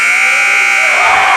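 End-of-quarter buzzer at a high school varsity boys' basketball game, a loud, harsh continuous electronic tone lasting the whole moment, with a faint crowd rumble rising near the end.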